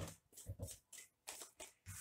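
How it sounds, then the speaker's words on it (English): Tarot cards are shuffled by hand in quick bursts, a close, crisp riffling and flapping repeated several times in a short rhythmic sequence, with no talking. "I done shuffle, cut the deck, and it's the same cards flipping out."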